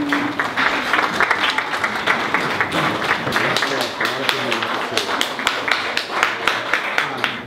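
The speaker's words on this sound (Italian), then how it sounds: "C'era un applauso pentru Sanda Mihail." Audience applauding at an Accademia Italiana della Cucina gathering, steady dense clapping with a few sharper individual claps, with voices talking over it throughout.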